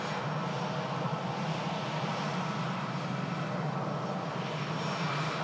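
A nine-year-old Lufthansa Airbus A320 departs Manchester Airport for Frankfurt, its jet engines a steady, distant broadband roar that stays even throughout without talk.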